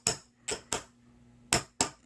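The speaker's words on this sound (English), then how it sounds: "just give it a few more taps there" A tiny hammer strikes the drive wheel pin of a Taigen T34 model tank in five sharp, close metallic taps, three quick ones, a pause, then two more, with near silence between them.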